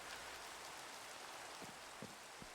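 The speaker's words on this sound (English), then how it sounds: "let's keep out this rain" Steady hiss of rain falling in the Minecraft video game, faint and even, with a few soft low thumps near the end.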